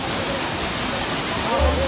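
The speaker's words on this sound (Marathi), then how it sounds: "धबधबा हा सावडा धबधबा आहे" Savdav waterfall near Kankavli in the Konkan makes a dense, continuous rushing roar over the whole short stretch.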